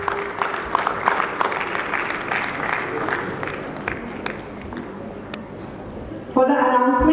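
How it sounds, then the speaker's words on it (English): An audience at a college cultural event applauds students with broad, continuous clapping that slowly thins and fades, before a loud burst of a different sound cuts in near the end. "A big round of applause for these students."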